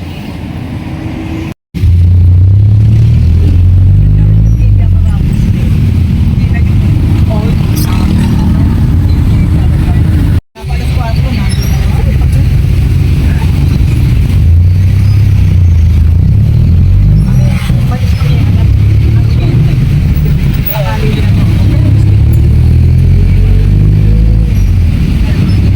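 A jeepney engine drones steadily while riding, a loud low rumble with shifting pitch as it accelerates and slows, broken by two brief dropouts, with occasional talk underneath.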